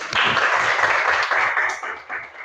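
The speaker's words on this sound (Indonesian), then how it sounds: "Tepuk tangan dulu dong." Students in an economics class clap together in a brisk, dense burst that swells and then tapers unevenly, fairly close and without talk.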